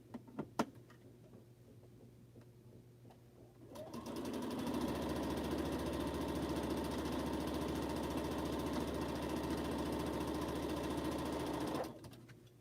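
A sewing machine stitches a quilt strip in one continuous fast, loud run of about eight seconds, close by, after a few light handling taps and ending abruptly.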